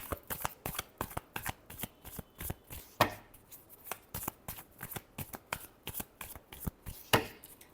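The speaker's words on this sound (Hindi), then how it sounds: "Last shuffle." A deck of tarot cards is shuffled by hand in a quiet room, giving a quick series of crisp riffling flicks and taps, close and clear.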